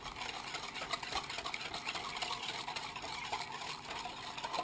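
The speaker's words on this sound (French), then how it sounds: "Je fouette le jaune d'œuf avec le sucre." A whisk beats egg yolk with sugar and hot milk in a bowl, a quiet, steady scraping and swishing with soft clinks of metal, close by and with no voices.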